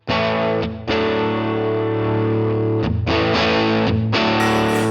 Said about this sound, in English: that's on the super reverb, and I think it's actually a compressor I have on there